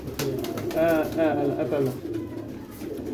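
A pigeon in a rooftop loft coos close by in soft, rolling repeated phrases, while someone talks over it.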